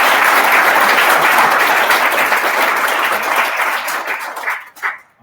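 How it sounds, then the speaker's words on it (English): An audience claps after a talk on Fourier analysis at a coding event, a dense round of applause that holds steady and then tapers off abruptly near the end. "So we should give a huge round of applause."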